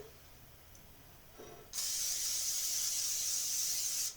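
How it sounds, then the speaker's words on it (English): After a faint click, a can of cooking spray sprays onto an 8x8 baking pan in one continuous, close hiss lasting a couple of seconds before cutting off. "We're going to spray an 8x8 pan"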